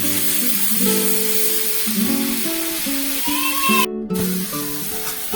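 Prawns and okra fry in a pan with a steady, loud sizzle and hiss that runs the whole time, while faint melodic tones drift along underneath.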